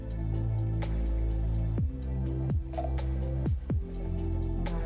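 Water pours into a small glass jar packed with vegetables for lacto-fermentation, giving a steady close liquid stream with a few bright drips and glugs over a low background hum.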